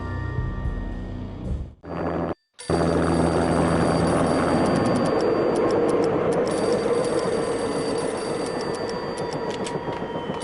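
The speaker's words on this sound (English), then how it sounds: "An armed helicopter just landed on the manor grounds." An armed helicopter in the Max Payne video game sets down on manor grounds, a loud, continuous rotor drone with whirring tones that briefly cuts out before resuming steadily.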